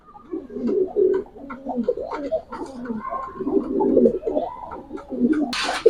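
Racing pigeons on a pigeon farm coo in repeated low, throaty rolls from several birds nearby, with a brief burst of wing flapping at the very end and no talk.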